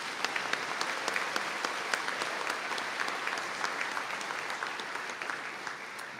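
An audience at a college conferring ceremony applauds the graduates with steady, moderately loud clapping from many hands, a continuous crackling wash with a few sharper individual claps standing out, fading slightly near the end.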